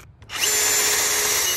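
A power drill fitted with a depth stop collar bores a hole, spinning up after a brief quiet start and then running at a loud, steady whine to the end.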